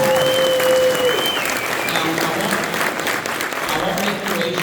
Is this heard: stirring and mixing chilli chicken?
no